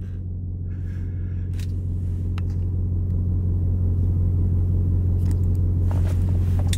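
A Dodge Hellcat cruising through downtown Philadelphia traffic, a deep steady engine rumble heard from inside the car, with faint ticks and clicks over the drone.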